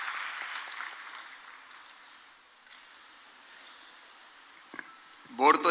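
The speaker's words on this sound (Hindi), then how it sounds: "तालियों से स्वागत माननीय" Audience clapping to welcome Madhya Pradesh Chief Minister Shivraj Singh Chouhan at a public event, moderately loud at first and fading into a quieter hall, with a brief voice near the end.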